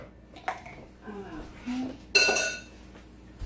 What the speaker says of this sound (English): Give me a fork. Whisk that up a little bit.